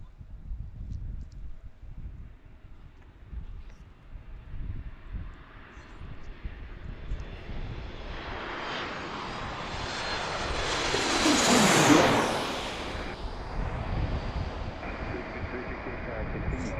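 Low-flying passenger jet passing close overhead at Washington's DCA airport, a roar building from faint rumble to a loud peak around twelve seconds then fading, with wind buffeting the microphone outdoors in a park.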